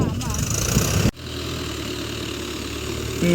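A tractor ploughing a farm field runs with a steady, close engine drone, cutting abruptly from a louder, busier rumble to a lower constant hum that swells again at the end.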